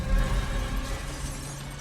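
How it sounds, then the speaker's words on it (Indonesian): A man crashes through a window in the Insidious horror film, sending glass shattering in one loud, dense burst that rings out and fades over a low rumble. "pria tersebut berlari menabrak kaca jendela mau menyerang Josh"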